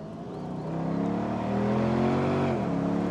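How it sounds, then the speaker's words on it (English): A Mercedes-Benz SLK55 AMG V8 revs up in a deep, rising rumble, climbing steadily before dropping briefly, loud and close with no talk. "One last time, let's hear this glorious V8 in all its glory."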